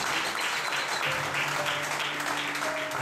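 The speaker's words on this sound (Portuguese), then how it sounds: "Vamos aplaudir o Senhor na vida dele." Congregation applauding during a church service, steady dense clapping filling the room throughout, fairly loud and continuous with no pauses.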